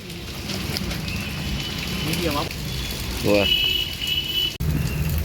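Steady rain pouring down during monsoon Janmashtami festivities, a constant hiss running throughout, with a voice talking over it and a brief dropout near the end.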